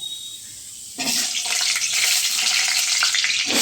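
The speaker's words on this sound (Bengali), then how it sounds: "তেলটা হয়ে গেছে কী রান্না করব বলো তো চিকেন রান্না করব আলুটা আগে ভেজে নিই" Potatoes dropped into hot oil for a chicken curry burst into a loud, steady sizzle after a quiet start, the crackling frying sustained and close with no talk over it.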